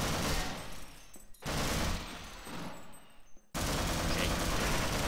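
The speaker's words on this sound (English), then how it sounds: "I'm shooting you with a machine gun" Sustained machine gun fire in the Half-Life Source video game, loud and continuous in two long bursts separated by brief pauses, with no talk over it.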